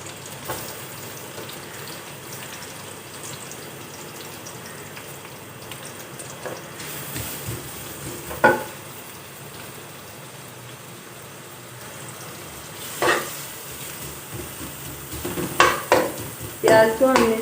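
Onions sizzle and fry in olive oil in a pan while moong dal is being made, giving a steady soft crackle with occasional louder stirring scrapes and spatters.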